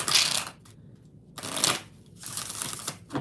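Oracle cards are shuffled in several short riffling bursts, crisp and close, separated by brief pauses, with no talking.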